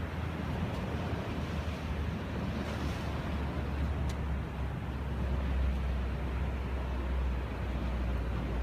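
Ocean waves roll in at Ocean Beach, San Diego, a soft, steady wash of surf with low wind rumble across the microphone, fairly faint and continuous with no talking.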